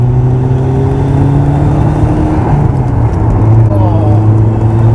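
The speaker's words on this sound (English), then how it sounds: "Oh, you can really hear the turbo on this side." Lotus Esprit Turbo HC (S3) being driven, its engine droning loudly and steadily from inside the cabin with a turbo whine rising above it, and no one speaking.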